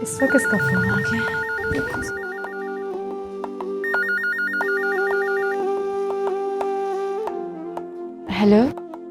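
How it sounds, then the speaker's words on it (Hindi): A telephone rings repeatedly in an evenly pulsing electronic pattern, loud and close, in two bursts with quiet gaps, while a low tonal music bed runs underneath. "इस वक्त किसका फोन आ गया?"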